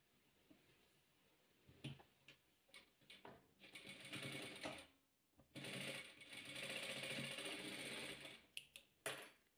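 Close sewing machine stitching a blue fabric square onto a red one for a chequered patchwork quilt, running in short bursts and then longer steady whirring runs with brief pauses, no talking.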